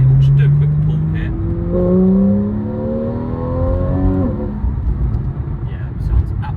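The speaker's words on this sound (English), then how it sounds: "GTS has a bit of a louder exhaust, even with a sports exhaust, than the regular S car." A 2015 Porsche 911 GTS (991.1, 3.8-litre, PDK) engine climbs through the revs under hard acceleration, its sports exhaust note rising in pitch, then easing off; loud and close.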